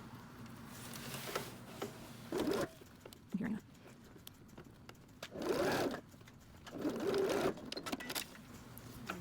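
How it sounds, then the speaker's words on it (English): A sewing machine stitches in a replacement coat zipper, running in several short bursts of rapid mechanical whirring separated by quieter pauses and small handling rustles, heard close up with no talking. "I'm actually going to flip it over and sew from this side."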